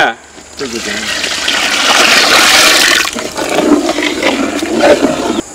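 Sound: pouring lentil water into a pot

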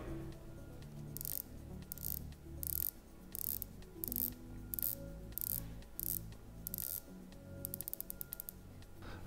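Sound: turning the bezel of a Rolex watch, clicking

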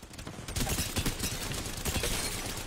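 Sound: gunfire in the video game Apex Legends

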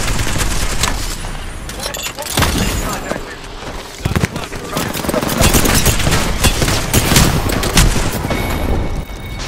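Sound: gunfire in video game Apex Legends

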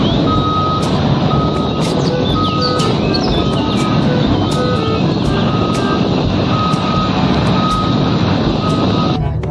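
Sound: mining truck reversing beeps

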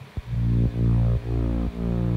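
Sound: Serum synth bass

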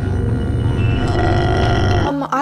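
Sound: burping

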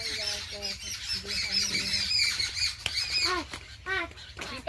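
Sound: birds calling around the house

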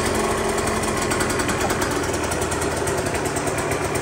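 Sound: fuel-injected KTM motorcycle engine running after electric start

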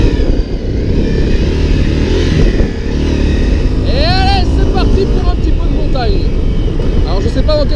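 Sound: Honda CRF 250 L motorcycle riding on road

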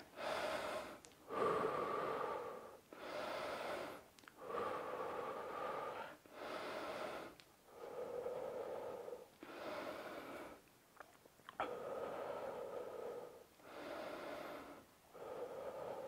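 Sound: deep breathing during a seated stretch

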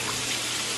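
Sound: milk being poured into a pan with butter and flour

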